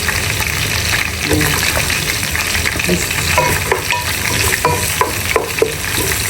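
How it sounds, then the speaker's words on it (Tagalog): Onions sautéing in hot oil in a pan for a jackfruit dish, a loud continuous sizzle close by, with a few light stirring knocks and scrapes, no speech. "Tapos, ilalagay natin ang ating onions."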